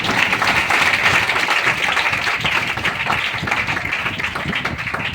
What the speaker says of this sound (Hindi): जोरदार ताली आप सभी के लिए